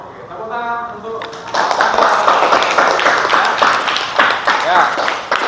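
Classroom applause bursts out after a brief tonal intro and continues as steady, fairly loud clapping from a group of students, with voices mixed in.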